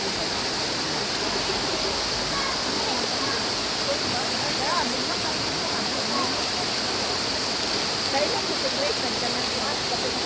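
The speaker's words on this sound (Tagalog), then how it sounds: "Nandito po kami sa tabi ng ilog, dagat." A river beside the sea flows with a steady, dense rushing wash, constant and fairly loud throughout with no clear breaks.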